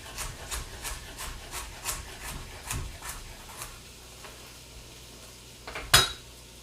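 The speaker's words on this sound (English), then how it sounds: "I'm pushing with the back of my knife, not the blade of my knife" Chopped carrots scraped across a cutting board with the back of a knife in a teriyaki chicken kitchen, a series of rhythmic rasping strokes close by, then a sharper clatter near the end.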